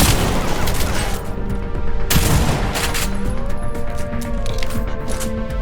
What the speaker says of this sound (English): especially the pump-action shotgun.